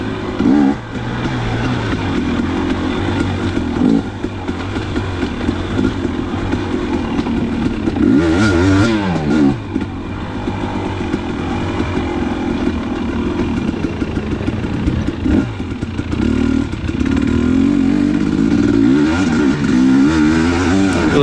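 A 2019 KTM 250xc dirt bike ridden on slippery forest trails, its engine buzzing and revving continuously throughout, rising and falling with throttle changes, loud and close with no talking.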